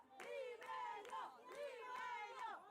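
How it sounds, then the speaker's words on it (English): Soccer supporters in the stands of a UPSL Premier Division match chant Limeño in loud, sustained unison, the rhythmic call rising and falling in repeated phrases across the stadium. "Can hear the crowd chanting Limeño."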